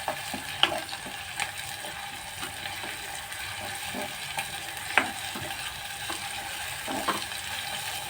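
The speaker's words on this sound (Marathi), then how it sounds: "त्यामध्ये आला लसूण पेस्ट आपण चांगले परतून घेऊया" Ginger garlic paste sautéing in a pan gives a soft continuous sizzle, with occasional sharp spatula clicks and scrapes as it is stirred; no one speaks.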